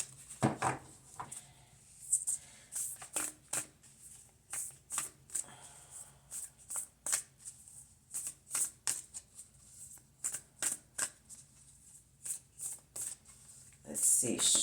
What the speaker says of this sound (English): shuffle some light into these cards. Mix them up a little bit